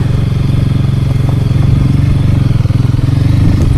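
A Royal Enfield Himalayan motorcycle engine drones steadily and loudly, with rattling clatter from rough, rocky ground under the wheels.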